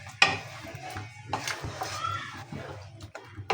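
Chicken for white korma being stirred and fried in a pot, with scraping utensil clatter and a soft sizzle running throughout, a sharp clank near the start and steady mid-level stirring after.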